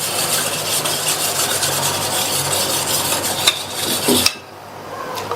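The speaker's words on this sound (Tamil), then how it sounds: "ஒரு விஸ்க் வச்சு நல்லா கட்டி இல்லாம கரைச்சுக்கங்க." A whisk scrapes and stirs ground powder mixed with water in a cooking pot for kurma, a continuous close rasping rub that stops abruptly near the end.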